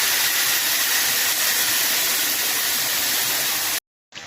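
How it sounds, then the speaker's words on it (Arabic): A cup of meat broth hits a hot pan of browned flour for beef stroganoff, giving a loud, continuous steamy hiss close up that holds steady for several seconds before cutting out abruptly. "بعد كده بنزل بكوبايه من مرق اللحمه او اي شوربه"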